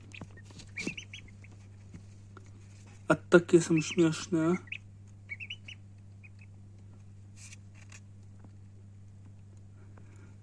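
A burst of high, rapid peeping from tiny newly hatched Indian Runner ducklings in an incubator, close by, over a steady low hum, with a voice speaking briefly.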